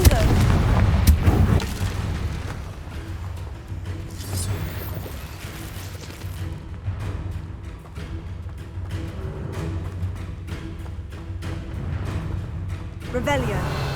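Confringo fire-blast spells exploding in the video game Hogwarts Legacy, a heavy booming blast up front, then repeated thuds and crackling bursts with voices speaking throughout.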